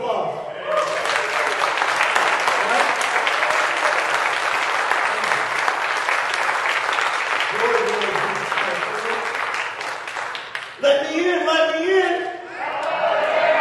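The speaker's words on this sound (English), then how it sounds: "Round of applause." An audience bursts into sustained applause, loud and dense with scattered cheers, fading as a voice speaks near the end.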